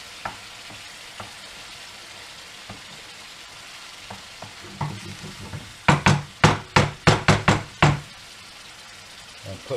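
Basil stirred into a sizzling pasta and meatball sauce: a soft steady sizzle with scattered spoon taps, then a quick run of about eight loud sharp knocks against the pan, close up and with no talk.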